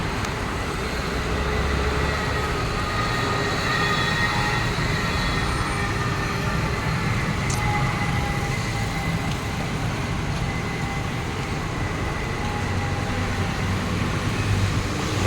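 Bangkok's Pink Line monorail train rolls into a station with a steady, loud mechanical rumble and hum, a continuous drone with faint whining tones over about fifteen seconds.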